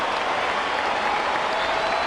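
Steady, loud ovation from a packed baseball stadium as the Angels crowd salutes debuting pitcher Joe Saunders against Toronto, a continuous wash of applause and cheers with no break.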